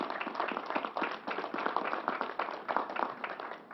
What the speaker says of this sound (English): let's give Commissioner Ball and Troy a big round of applause for their good work.